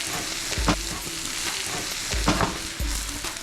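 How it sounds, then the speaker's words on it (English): Cabbage browning with butter in a pan for colcannon, a steady crackling sizzle broken by three low thumping stirs or pan knocks, close and with no voices. "take about 2 ounces of butter and put it right in the pan with the cabbage and let these things continue to brown together"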